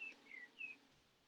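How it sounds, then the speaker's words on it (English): A blackbird sings outdoors in faint, distant clear whistled phrases, three brief notes over a quiet background hiss. "Leave the blackbird with us."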